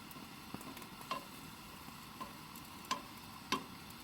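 Marinated steak cooks at a campsite with a soft, steady sizzle, broken by a few sharper crackles and pops, heard quietly on its own.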